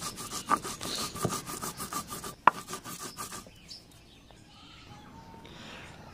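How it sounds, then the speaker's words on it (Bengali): Green and red chilies ground on a stone slab with a stone roller, rhythmic scraping strokes close by for a few seconds before fading into quieter background with faint bird chirps. "তো দেখতে পাচ্ছেন আপনারা কাঁচামরিচ এবং লাল মরিচটা আম্মু বেটে নিচ্ছে।"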